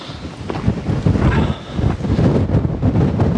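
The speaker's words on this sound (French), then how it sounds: "Oh putain, il y a du vent." Strong wind buffets the microphone in loud, rumbling gusts that rise and fall throughout.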